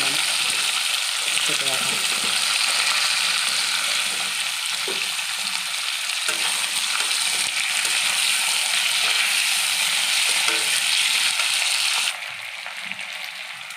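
Vegetables for a pumpkin-greens and shrimp curry sizzle steadily in hot oil seasoned with radhuni and whole cumin, a loud continuous frying hiss that drops slightly near the end, with someone briefly speaking over it.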